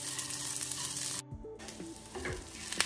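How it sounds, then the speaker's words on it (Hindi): Peanuts roast in a hot pan for a tomato and onion chutney, giving a close, steady sizzle with a brief break in the middle and a few soft scraping stirs after it. "पीनट को भी 2 से 4 मिनट के लिए भून लेंगे"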